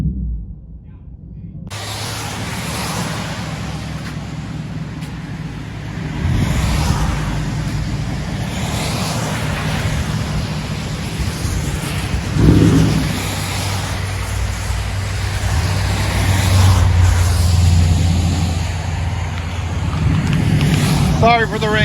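A steady low V8 engine hum heard from inside a 2007 Lexus LS460, rising and falling slightly, with rain and road noise around it and a voice speaking over it at times.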